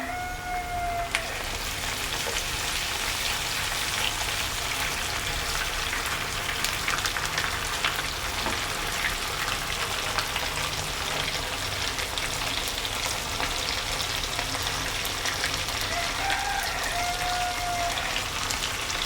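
Ginger garlic paste fries in hot oil in a pan, producing a continuous moderate sizzle with fine crackling and an occasional faint scrape.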